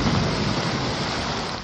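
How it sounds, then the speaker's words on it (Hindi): Torrential monsoon downpour with thunder, a dense, loud, continuous roar of heavy rain with deep low rumbling, steady throughout and with no voices. "कहीं बादल बरस गए, कहीं घन गरज।"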